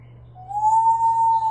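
An African grey parrot imitates an owl call with a single drawn-out, whistle-like hoot that rises slightly and then holds a steady pitch. The call is clear and close, set against a faint low hum.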